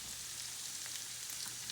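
Onions and kielbasa sizzle steadily in butter in a pan, a soft, even crackling hiss that runs throughout with no voices.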